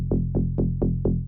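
A saw-oscillator tech house bass line pulses alone in steady eighth notes, five or six punchy plucked hits with short decays over a little more than a second, moderately quiet.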